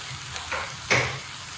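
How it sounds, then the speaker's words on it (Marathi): Soaked moong dal tipped into a hot pan for drumstick-leaf bhaji, giving a short burst of sizzling that quickly settles into a softer hiss. "मुगाची डाळ जी भिजवली होती ना 5-10 मिनिट, ते घालते आता मी"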